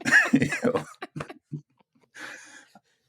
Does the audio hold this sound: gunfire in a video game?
no